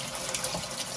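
Tap water runs steadily into a sink while clams are cleaned, a soft continuous splashing hiss, close and fairly quiet with no talk.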